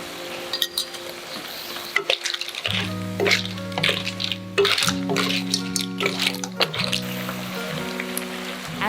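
Clams fry in oyster sauce in a wok, giving a bubbling sizzle with clinks and scrapes of stirring, over a steady tonal hum of background music, no speech.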